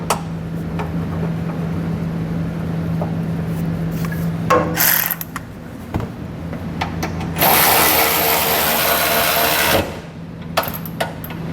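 A ratchet tightens trailer hitch bolts on a 2020 Chevrolet Equinox, giving bursts of rapid clicking and mechanical rubbing close by, with a louder sustained stretch in the middle.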